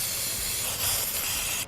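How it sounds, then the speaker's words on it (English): Blue spray paint hisses steadily from an aerosol can, close and continuous for nearly two seconds, swelling slightly midway before cutting off with a faint click. "I got just blue spray paint this time"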